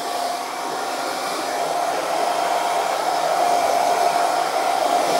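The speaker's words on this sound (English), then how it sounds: "hold the hair dryer like that" A hair dryer blows steadily at close range in a barbershop, styling hair after a low fade haircut, a constant whooshing whine with no talking over it.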